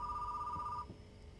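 A telephone rings in Retro Rewind, a steady electronic ring that holds for most of the moment, then cuts off, leaving quiet room ambience.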